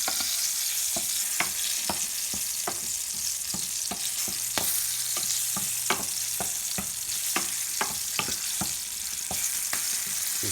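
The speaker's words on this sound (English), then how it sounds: "About a minute of saute, then I'll add the garlic." Tomatoes sauté in a pan with reducing vinegar and a little salt, giving a continuous close sizzle with frequent sharp pops and spoon stirring clicks throughout, no voices.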